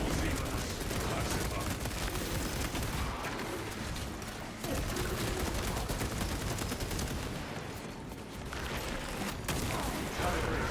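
Melta weapon firing in the Space Marine 2 video game, heavy continuous roaring blasts with dense gunfire around it, loud and sustained with brief dips, a voice speaking over it.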